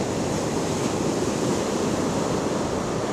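Ocean surf on a beach early in the morning gives a steady, broad rushing wash that sounds continuous and fairly loud, with no voices over it.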